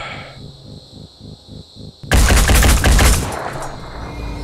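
Automatic gunfire from a weapon in the turn-based strategy game Phoenix Point, a loud dense burst of rapid shots lasting about a second, following quieter in-game ambience and tapping.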